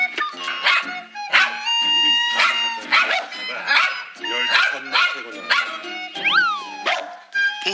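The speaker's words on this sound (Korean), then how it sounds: "강 훈련사 방문에 격하게 짖는 녀석들" A pair of Spitz siblings bark fiercely and nonstop at a dog trainer arriving at their home, the loud, sharp indoor barks coming in rapid bursts with a brief whine near the end.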